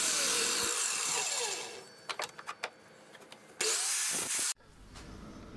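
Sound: chop saw cutting wood strips

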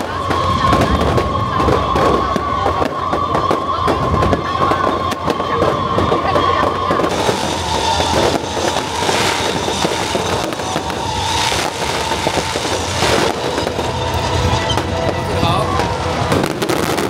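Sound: fireworks show at Keelung fishing port festival

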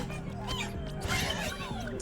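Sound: cat sounds in Astro's Playroom video game

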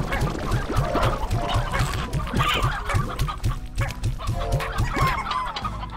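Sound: chickens clucking in the video game Slime Rancher

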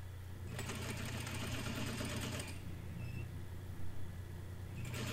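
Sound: sewing machine stitching a shirt seam

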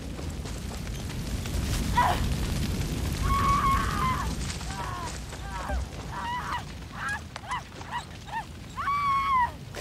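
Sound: dog in the video game Far Cry 6

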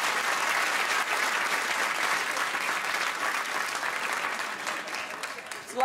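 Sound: audience applause

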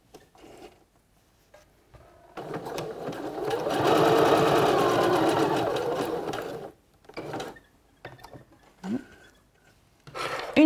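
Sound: sewing machine stitching a swimsuit

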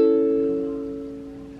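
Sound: A chord played on a ukulele

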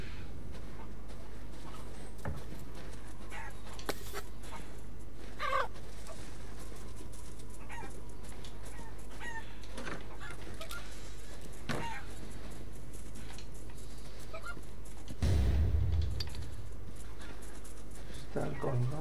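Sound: chickens clucking in video game Resident Evil Village

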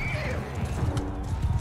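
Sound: steppe horse neighing and hooves, from video game Mount & Blade II Bannerlord

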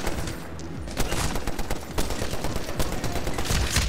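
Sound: machine gun firing from helicopter, video game Medal of Honor Warfighter

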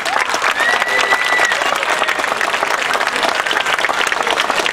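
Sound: audience applause at award ceremony

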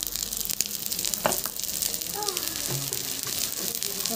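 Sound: turmeric added to sizzling garlic ginger paste in pan

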